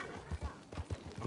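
Horse hooves clip-clop in Red Dead Redemption 2, a quick uneven run of soft thuds on dirt, faint and close, with a voice talking over them.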